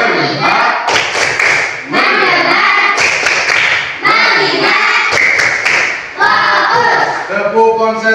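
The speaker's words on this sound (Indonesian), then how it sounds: "mari kita dulu tepuk ya. Tepuk fokus. Tepuk fokus." A school class doing the rhythmic 'tepuk fokus' clapping chant, loud close group claps and slaps in a patterned beat with children's voices chanting along between the hand sounds.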